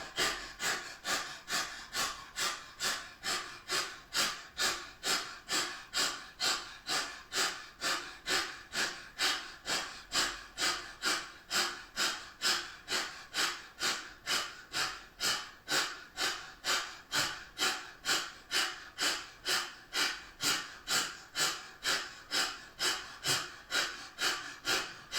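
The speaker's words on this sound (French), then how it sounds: "on va tirer la langue et respirer fortement par la bouche" Forceful, rhythmic mouth breathing with the mouth wide open and tongue stuck out during a Kundalini yoga posture, a steady train of loud, evenly spaced breaths repeating quickly for the whole stretch, close and alone.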